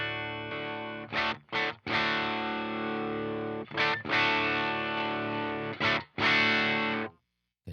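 Electric guitar driven through a Friedman BE-OD distortion pedal boosted by an SD1, set loose and flubby: thick sustained distorted chords ringing loud and alone, broken by a few short pauses and choked gaps before ending in silence.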